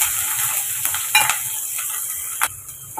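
Onion, green chilli and whole spices such as mace being sautéed in a pan for tomato rice give a steady close sizzle, with a few brief scraping stirs of a spoon against the metal.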